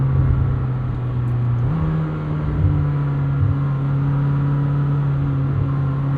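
A Lamborghini Temerario's engine pulls hard under acceleration with a steady, buzzy motorcycle-like drone that rises in pitch partway through, loud and close throughout with no voices.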